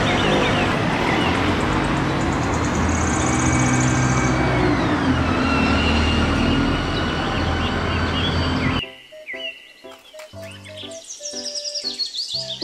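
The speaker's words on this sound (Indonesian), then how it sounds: "Mobil bus kota." A city bus drives past with a loud, steady rumbling engine and road noise for about nine seconds. The sound then drops away, and scattered bird chirps take over.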